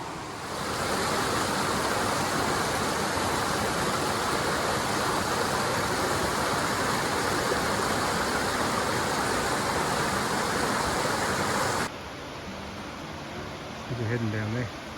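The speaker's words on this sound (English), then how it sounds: "a bit of a waterfall happening down there at the left" A waterfall beside the Nakasendo Trail between Magome and Tsumago in Japan, a steady loud broadband rush of falling water that cuts off abruptly near the end, leaving quieter outdoor ambience.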